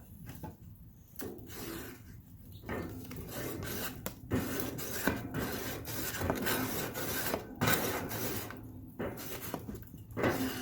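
Barbecue grill grates are scrubbed clean with repeated rasping, scraping strokes in an uneven rhythm, fairly quiet and close, with no talking.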